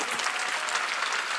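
A church congregation at a Sunday worship service breaks into brief, dense applause, many hands clapping at once in a steady wash of sound.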